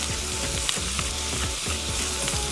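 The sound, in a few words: lamb mince with spices sizzling on Weber Slate griddle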